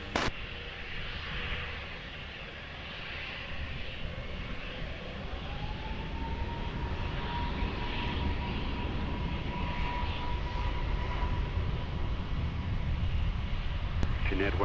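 An airliner taking off from runway 20 at Lisbon Airport, a broad, steady engine roar heard from a distance with a faint whine rising through it, continuous and unbroken.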